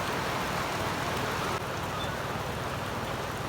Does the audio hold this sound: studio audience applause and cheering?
no